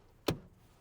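A single sharp click from the seat tilt button in a 2025 Nissan Pathfinder Platinum, close and brief over quiet cabin hush, followed by a faint short thud.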